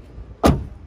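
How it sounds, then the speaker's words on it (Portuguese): A car's power window moves in one short whooshing sweep, close and fairly loud, lasting about half a second against a quiet cabin background. "Deixa eu abrir a janela pra vocês"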